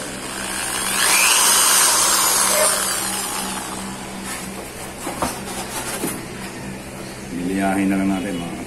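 A loud, gritty grinding of metal being sharpened, rising and fading in long passes, with a harsh high whine and some clatter.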